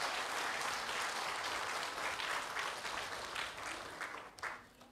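A church congregation gives loud applause during a healing service, a dense, even wash of many hands clapping at once that holds steady and tapers slightly at the end.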